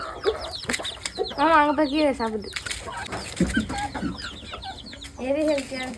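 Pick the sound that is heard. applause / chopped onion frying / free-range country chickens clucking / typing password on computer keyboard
free-range country chickens clucking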